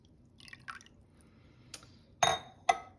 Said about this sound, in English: just fill it with water. And just fill it up as close to the top as you can.